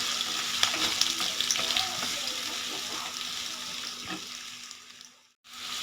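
Chopped onions sizzling and frying in a pan for egg bread chilli: steady close crackling hiss with occasional stirring scrapes, fading briefly near the end, no talking.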